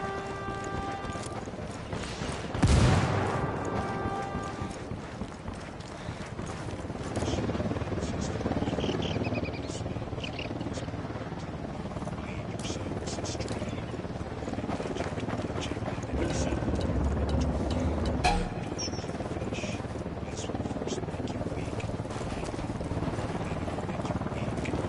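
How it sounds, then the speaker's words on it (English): An inbound helicopter produces a steady, rhythmic rotor chop that thumps on without a break, with voices talking over it. "Helicopter inbound."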